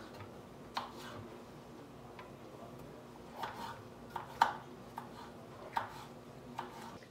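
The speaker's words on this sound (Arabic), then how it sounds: "كنقطع غير بحال هكا طويله هذه الفلفله" A knife slicing a pepper lengthwise on a cutting board makes sparse, light taps spaced irregularly over a quiet kitchen background.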